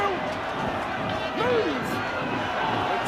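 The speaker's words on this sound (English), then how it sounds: "suddenly the Bradford supporters have found their voice" Bradford supporters at a rugby league match against Wigan Warriors raise a broad crowd roar that swells under a commentator's continuous talk.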